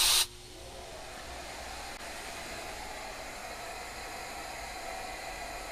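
A vacuum runs in a woodworking shop as a steady, faint broadband hiss heard from a distance, preceded by a brief louder burst at the start and no talk.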